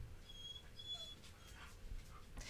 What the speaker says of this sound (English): The dogs are crying